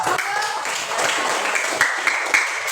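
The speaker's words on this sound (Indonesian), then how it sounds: "Beri tepuk tangan dulu, yuk." Schoolchildren in an Indonesian classroom break into a steady, moderately loud round of applause, a dense wash of hand claps with voices mixed in throughout.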